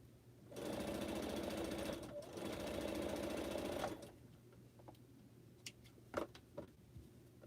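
A sewing machine stitching quilt pineapple blocks runs in a steady mechanical whir for about three and a half seconds with a brief pause, then stops, leaving quiet room noise and a few faint clicks.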